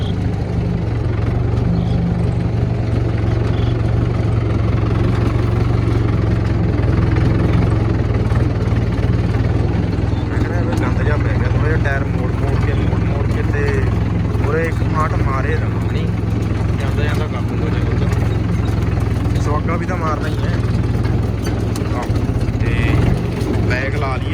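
A tractor running an 8-foot rotavator in a farm field gives a loud, steady, low engine drone that holds throughout without pause.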